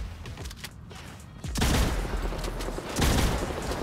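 Shotgun fire in Fortnite, two heavy blasts in quick succession with booming tails, following quieter game ambience and no talk.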